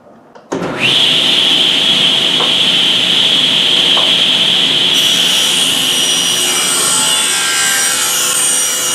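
A wood board being ripped to 3 inches wide with a power saw: a loud, steady high whine starts abruptly after half a second and runs continuously to the end, with the pitch and texture shifting slightly midway as the blade works through the cut.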